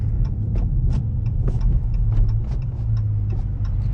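Busy road traffic heard through the slightly opened windows of a moving Dodge Charger R/T, a steady low rumble and wind rush with repeated ticking bumps, loud and continuous with no talk.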